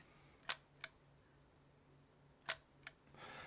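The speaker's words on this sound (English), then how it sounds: "the shutter still works. You might hear this if I put it near to the microphone." Two pairs of sharp mechanical clicks from the shutter of a roughly 100-year-old Kodak camera, each a quick double snap, spaced apart in a quiet room.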